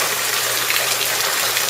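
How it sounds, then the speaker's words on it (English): Long-awaited rain pours steadily outdoors, a loud, even hiss of falling drops with no pauses and no voices. "it's raining, y'all"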